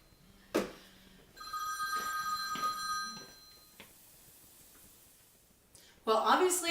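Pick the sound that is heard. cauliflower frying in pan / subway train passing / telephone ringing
telephone ringing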